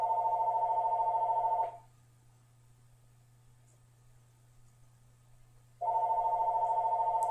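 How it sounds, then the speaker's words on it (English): A telephone rings indoors: a loud trilling electronic burst, a silent pause of about four seconds, then the ring starts again, with a faint steady hum underneath. "Of course the phone rings."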